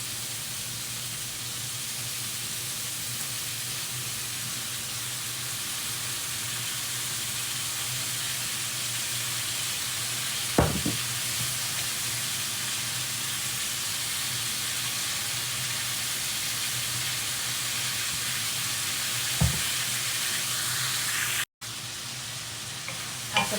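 Chicken chilli sizzling in a pan after sweet chilli sauce goes in, a steady loud frying hiss that carries on throughout, with a couple of brief utensil scrapes.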